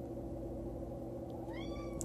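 A cat meows once near the end, a faint rising cry heard through steady loud background noise.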